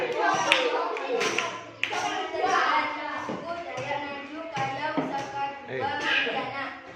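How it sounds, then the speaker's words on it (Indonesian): Schoolchildren clap in a classroom, a close, uneven burst of hand claps mixed with children's voices and shuffling, the clapping loosening into scattered taps as talking continues. "Tepuk tangan."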